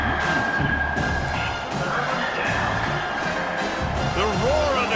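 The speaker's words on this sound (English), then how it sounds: "The roar of the crowd trying to fuel this defense to keep them pinned in their own end" Crowd roaring at an American football game in the Supreme League, a sustained loud stadium roar with whistles and shouts, a commentator talking over it throughout.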